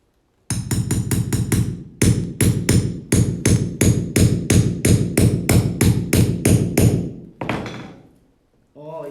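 A hammer strikes repeatedly in steady rapid runs of sharp knocks, loud and close, pausing briefly between series, while a person works on reforming an item indoors.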